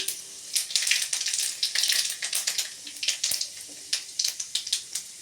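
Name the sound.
panch phoron spices sizzling in hot oil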